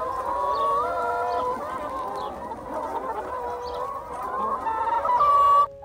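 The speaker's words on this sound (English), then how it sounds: "Nandito po tayo sa chicken farm." Chickens on a free-range farm in Australia cluck and chatter steadily at close range, several birds overlapping in a continuous flock murmur with occasional louder calls rising near the end.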